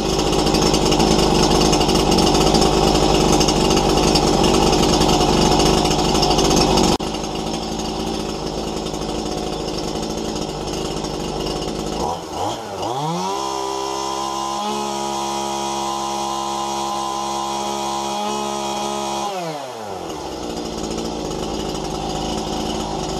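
A Stihl MS181 chainsaw, running poorly and in need of tuning, warms up on half choke: a loud, steady two-stroke drone whose pitch dips and climbs before settling again at a rough idle.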